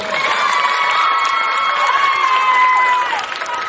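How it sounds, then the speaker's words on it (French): A crowd at a community event in Treichville cheers and shouts with scattered clapping, with children's high voices rising in a loud, steady din that dips slightly near the end. "Si elle continue, on applaudit très fort."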